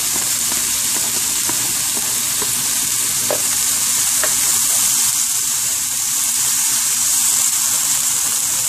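Smoked red herring hits hot oil in a pot alongside callaloo, setting off a loud, continuous sizzle with a few faint clinks and spatters throughout.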